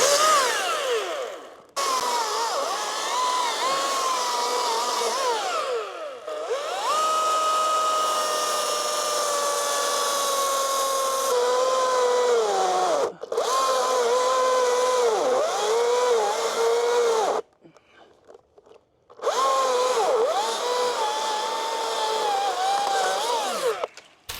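A chainsaw cuts a tree branch during tree work, its engine loud and close, revving in long sustained bursts with brief drops to idle and a near-silent pause between cuts.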